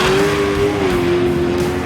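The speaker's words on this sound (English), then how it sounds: "Drag racing at its best. American or Australian V8s" V8 street car at full throttle during drag racing at Meri Dragway, a loud, sustained engine roar with a steady high whine, close and alone without talk.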